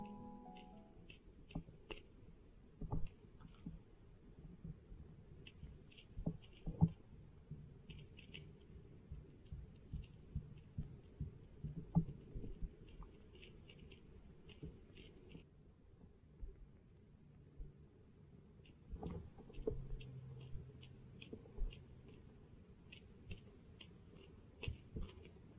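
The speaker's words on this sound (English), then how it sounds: "turn the volume up and listen to that rattle." A Googan Rattling Ned fishing bait rattles underwater, giving quiet clusters of small rapid clicks that come in irregular bursts and pauses over a faint, low background.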